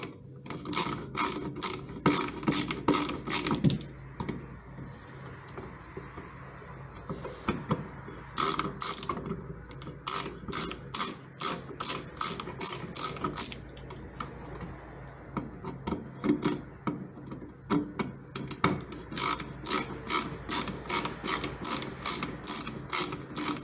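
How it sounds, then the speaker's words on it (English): Repeated ratcheting screwdriver clicks in quick bursts, close and crisp, pausing and resuming with some rubbing and handling noise between them, while changing an electrical outlet. "you guys might not like the sound of a ratcheting screwdriver, but I personally love it."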